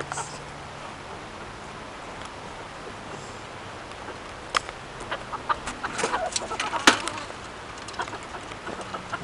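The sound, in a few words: chicken clucking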